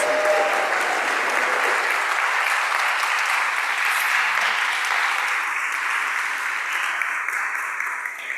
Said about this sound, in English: So if we could give a big round of applause.